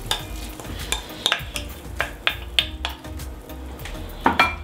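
Beef for yukgaejang spicy Korean beef soup sizzles in a hot pot while a utensil scrapes and clinks against the metal in irregular strokes, close and clear with no talking.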